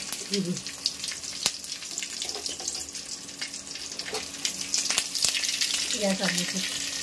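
Dried red chilies and curry leaves sizzle and crackle steadily in hot oil for a South Indian chutney tempering, with a few sharp pops and faint background voice.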